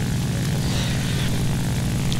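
A Ki-100 propeller fighter in the game War Thunder drones with a loud, steady engine roar that stays constant and close throughout, with no speech.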